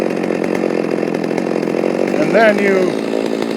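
A Stihl MS390 chainsaw fitted with a HiPa carburetor idles loudly and steadily while its low-speed mixture is adjusted, the pitch rising briefly near the end, with someone talking over the engine.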